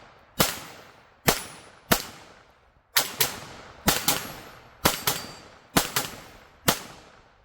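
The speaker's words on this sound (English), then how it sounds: "But just shooting some CCI, some of the A17 stuff, and it has done wonderful." A Bear Creek Arsenal BC15 rifle chambered in 17 HMR fires about ten sharp, loud single shots at a steady, unhurried pace, each crack trailing off in a short ring before the next.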